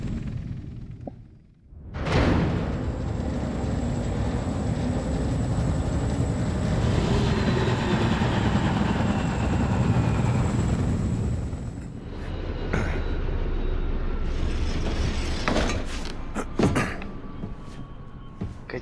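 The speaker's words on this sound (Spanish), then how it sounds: "Chulo el helicóptero." A helicopter in the video game Wolfenstein II: The New Colossus gives a loud, sustained rotor and engine roar after a sudden onset. Near the end the roar gives way to sharp clanks and bursts.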